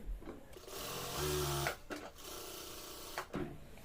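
Sewing machine stitching a salwar seam, a continuous close mechanical whirr that briefly stops and restarts, fairly quiet, with no speech.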